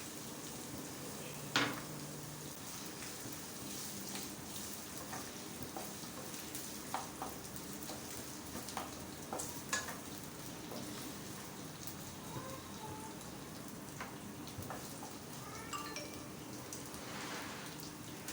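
Chicken frying in a pan for street-style noodles gives a steady, close crackling sizzle with occasional light stirring knocks, and no talking over it.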